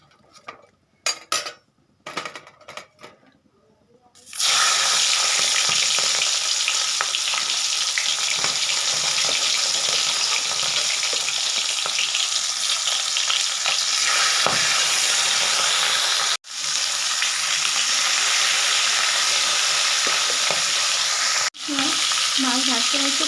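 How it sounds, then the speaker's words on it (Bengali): Fish heads frying in hot oil in a kadai, a few clinks before a loud, dense, continuous sizzle starts and carries on close up, briefly broken twice. "এবার মাছের মাথাগুলো ভেজে নেব।"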